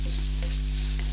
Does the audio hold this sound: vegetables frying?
yes